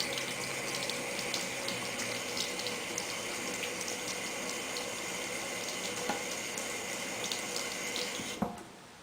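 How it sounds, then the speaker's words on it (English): Running tap water rinsing an acrylic paint brush in a sink, a steady hissing splash that runs continuously at close range with no voices, ending with a small knock as the flow stops. "And rinse it under some water in a circular motion."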